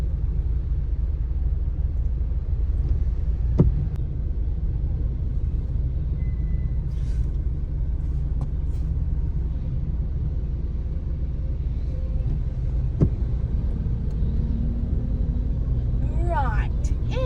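Traffic noise heard from inside a car stuck in a jam after an accident, a steady low engine rumble with occasional faint thumps and passing sounds, while people talk throughout.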